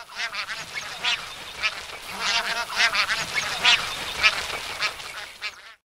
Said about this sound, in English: In India, bar-headed geese like to live in marshes and also in rice paddy fields